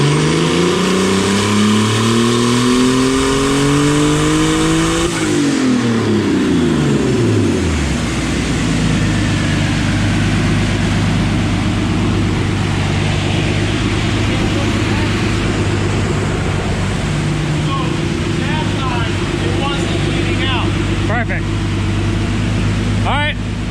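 An adult-sized go kart engine on a dyno rises through a long revving pull, its pitch climbing and sweeping before settling into a loud, steady drone, with people talking over it.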